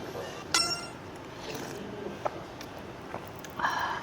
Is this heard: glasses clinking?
yes